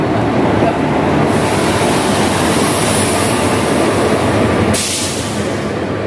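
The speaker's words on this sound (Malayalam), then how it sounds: "നമ്മൾ ട്രെയിൻ വന്നിട്ടോ" Nandigram Express arriving at Nashik Road station, a loud, continuous rumble and roar of the passing train filling the platform, with a brief hiss burst near the end.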